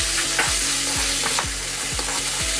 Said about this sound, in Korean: 간장, 그 다음에 설탕 넣고 조금 간이 되도록 볶아주다가